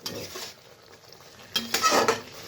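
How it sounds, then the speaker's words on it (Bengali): Spices and salt stirred in a cooking pan for a fish and bean-potato curry, a brief scrape followed by a louder burst of clattering spoon-on-pan movement, close and without talk. "তো ভালোভাবে নেড়ে চেড়ে নিই"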